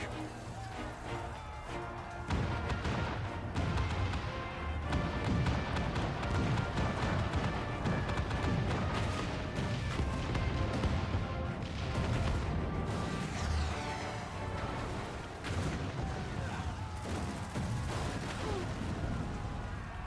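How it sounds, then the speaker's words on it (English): Ships fire cannons during a battle in the video game Final Fantasy XIV, with repeated booms and bursts packed into a dense, continuous barrage that stays loud throughout, layered with music and other battle effects. "All cannons! Fire at will!"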